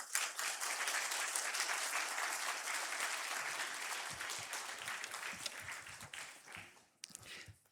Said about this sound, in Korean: 나오실 때 큰 박수로 환영해 주시기를 바랍니다